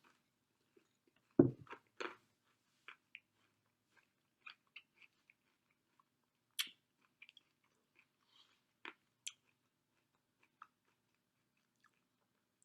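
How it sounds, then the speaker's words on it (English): Cereal crunches between close, quiet bites and chews, with one sharper crunch early on and then sparse soft munching sounds separated by near silence. "watch me eat some cereal at 3:52 p.m."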